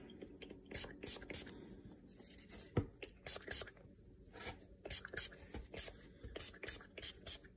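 Several short hissing spray bursts from an aerosol can of glue accelerator, applied while gluing RC tires on rims, close by, with faint scraping and handling noises between them.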